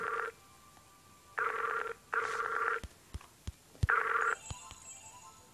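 A Skype call rings out in short repeated tone bursts with gaps between them, followed by several sharp clicks, clear and close with no talking.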